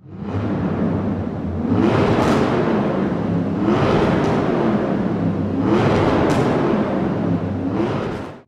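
A Honda S800 engine in the racing game Forza Horizon 4 revs up and down in repeated cycles, a loud, close buzzing whine rising and falling about four times with no talk.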